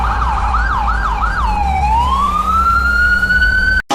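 Cartoon fire engine siren wailing in rising and falling sweeps, then settling into a long steady rising tone, loud and close with no voices over it.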